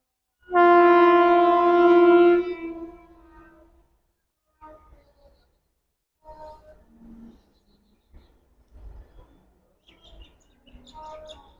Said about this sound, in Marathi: दीड तास लेटनंतर त्याचा अरायवल होत आहे विश्रामबाग रेल्वे स्टेशन ही गाडी स्किप करणार आहे